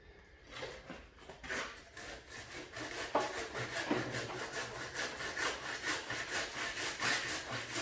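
A hand saw cuts through the roots of a large ash bonsai during repotting, with rapid rhythmic rasping strokes that grow louder and more regular after the first few seconds, close up.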